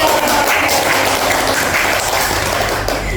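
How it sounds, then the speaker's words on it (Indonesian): A small group applauds during a student organization podcast as a vice chair is introduced, a steady crackle of hand claps lasting about three seconds. "Tepuk tangan dulu"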